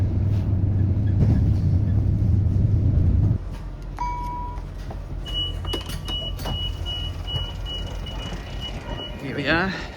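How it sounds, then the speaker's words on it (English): A train pulls into a station platform in Adelaide, with a heavy low rumble that cuts off suddenly, then brake squeals, short tonal beeps and clanking metallic clicks from close by. "Here comes our first train of the day."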